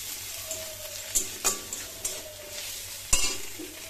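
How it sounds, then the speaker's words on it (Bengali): Ginger and garlic fry in a pan over a soft sizzle while a spoon stirs them, giving several sharp scraping clacks against the metal at irregular intervals, close by with no speech. "আদা রসুনটা দিয়েও হালকা করে ভেজে নেবো"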